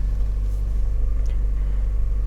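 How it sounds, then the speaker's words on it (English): A 2012 Chevy Cruze Eco with its 1.4 liter turbo engine runs at a steady idle, giving a constant low rumble close by with no voices over it. "This is the 2012 Chevy Cruze Eco."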